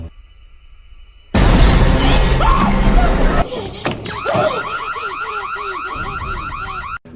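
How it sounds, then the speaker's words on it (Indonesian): A car alarm blares in a rapid warbling, repeating pattern after a loud burst of noise, steady and close, cutting off abruptly near the end. "Karena alarm berbunyi"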